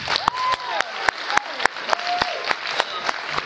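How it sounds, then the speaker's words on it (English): An assembly audience claps for itself, with sharp, loud individual claps standing out against a crowd of applause and scattered cheering and whoops rising through it. "Give yourself a round of applause"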